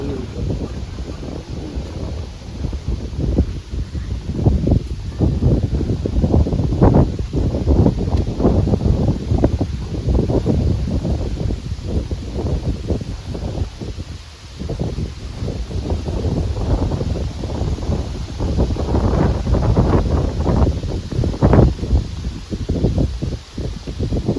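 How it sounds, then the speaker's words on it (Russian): Wind gusts and buffets the microphone continuously, a rough rumbling roar with rustling, rising and falling in strength throughout. "ветер"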